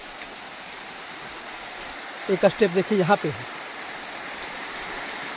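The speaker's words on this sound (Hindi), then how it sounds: "ये देखिए कलकल करती हुई झरना" A hidden stepped waterfall at Govindpur, Nawada, gives a steady, soft wash of falling water throughout, with someone briefly speaking over it midway.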